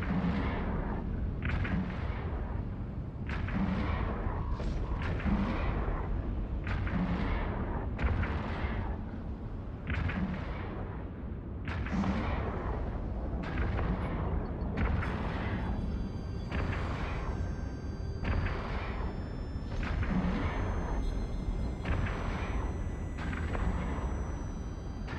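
Repeated heavy booming shots from ship weapons in Eve Online, roughly a dozen deep blasts in an irregular steady rhythm over a low rumbling background, loud and without voices.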